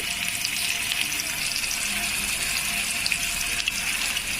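Masala-marinated paneer fries in a little oil on a hot tawa, giving a steady, soft, hissing sizzle throughout without any speech.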